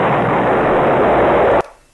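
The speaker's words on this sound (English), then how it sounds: "I had to have an explosion get in there to break your stride for a moment" An explosion sound effect plays during a talk show: a loud roaring burst of noise that holds for about a second and a half, then cuts off sharply and fades to quiet.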